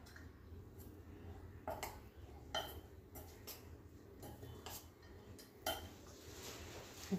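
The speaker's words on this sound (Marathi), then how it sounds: "आता हा यामध्ये मिक्स करून घेऊया।" A spoon taps and scrapes against a bowl while cornflour is mixed into a mixture, with about a dozen light clinks at an uneven pace, faint and close, and no talking.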